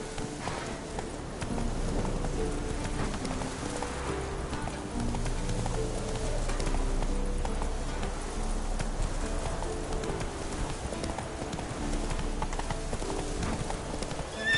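Roach the horse gallops in The Witcher 3, a continuous rapid clip-clop of hooves at an even rhythm, close and fairly loud, with no talking.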